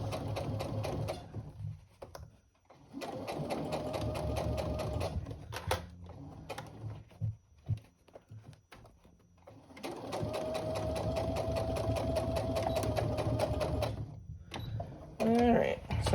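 A sewing machine stitches a seam across a tote bag in two long runs of rapid, steady mechanical chatter, with short pauses and handling noise between bursts and a voice briefly heard.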